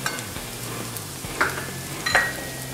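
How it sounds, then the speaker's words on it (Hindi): Onion with red chili powder, coriander powder and turmeric frying in a pan for a ridge gourd curry, a steady close sizzle with a few sharp scraping stirs of a spoon, no talking. "ये हमने दो मिनट के लिए प्याज को थोड़ा भून लिया है अब हम इसमें मसाले ऐड करेंगे"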